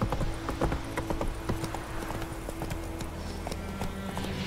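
Roach, the horse in The Witcher 3, gallops in a steady rapid clip-clop of hooves, close and continuous over a low ambient game bed, with a faint whinny-like tone.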